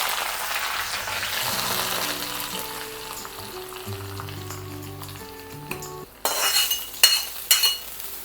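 Homemade Onam sambar is stirred in the pot after the tempering is poured in. A faint sizzle runs underneath, then a spoon clinks and scrapes sharply against the vessel a few times near the end.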